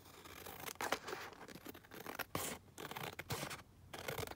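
Paper being trimmed with scissors at close range, a run of crisp scratchy snips and rustles that come in uneven bursts with short pauses between them.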